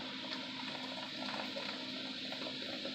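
Dr Pepper soda pours steadily into a crock pot over a pot roast, a continuous fizzing, splashing liquid stream with foaming bubbles, close and even throughout with no speech.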